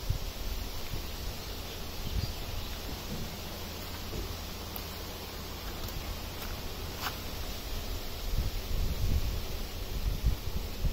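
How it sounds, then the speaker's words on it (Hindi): Wind moving through the leaves of a peepal tree outdoors, a soft continuous rustle that swells and eases over about eleven seconds, faint and steady with no talking. "पीपल के पत्तों में हवा चलती है तो आवाज होती"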